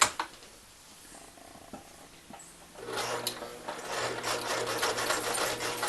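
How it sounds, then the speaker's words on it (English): A sewing machine stitches across fabric for a phone pillow, quiet at first and then a steady, close mechanical whirring that runs without pause for the last few seconds, with no talking. "we're just going to line it up and we're going to sew across"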